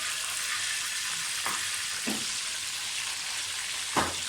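Potato pieces frying in hot oil for aloo gosht, giving a steady, even hiss of sizzling with a few soft scrapes of a spoon against the pan.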